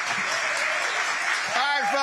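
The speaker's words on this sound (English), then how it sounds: "Keep clapping." Studio audience applause and clapping at a live town hall broadcast inside a Nashville Baptist church, a dense steady wash of hands that carries on loudly for the whole moment, with a voice briefly breaking through near the end.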